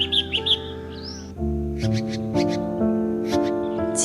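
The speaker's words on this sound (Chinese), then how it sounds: "鸟叫声。" Birds in a quiet mountain village in China give a few quick, high chirps at the start, then fainter calls continue beneath soft instrumental music.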